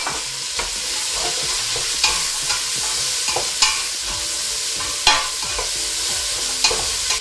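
Potatoes, onions and carrots sautéing in a pot, a constant frying hiss broken by repeated scraping stirs and soft clacks of a utensil at irregular intervals, close up and without speech.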